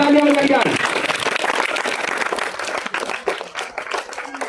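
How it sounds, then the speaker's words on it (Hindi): A crowd at a Gita quiz gathering gives loud, dense applause for two winning children, a sustained burst of clapping that fades gradually, with a voice speaking briefly over the start. "तो एक बार इन दोनों के लिए एक बार जोरदार तालियां बजाई जाए"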